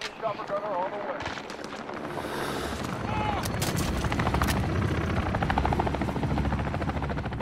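Chopper gunner killstreak helicopter in Call of Duty: Modern Warfare: a dense, steady rotor roar packed with rapid bursts of heavy gunfire and explosions, growing louder midway, with voices briefly heard early on.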